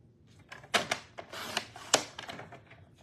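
A paper trimmer cuts a 1.5-inch strip from a 12x12 sheet of cardstock for card making, giving several faint, sharp clicks and snaps spaced irregularly in a quiet room.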